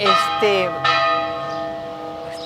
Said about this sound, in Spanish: están muy fuertes las campanadas